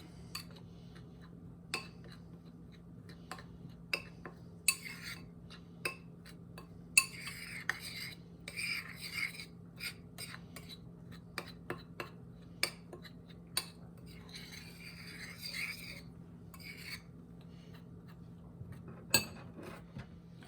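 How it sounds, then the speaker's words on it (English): Dry brownie mix with baking soda, flour and cocoa stirred in a bowl with a utensil, soft scraping swishes broken by sharp clinks against the bowl, close and fairly quiet. "So go ahead and just mix this up a little bit so it gets all evenly mixed."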